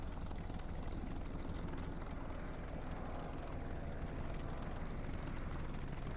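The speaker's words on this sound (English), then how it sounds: "This is a radial engine, air-cooled engine, and it's cold" A cold, air-cooled radial engine of an La-5 fighter in War Thunder runs at a steady idle: a dense, continuous propeller drone that stays loud and even throughout, with no voices.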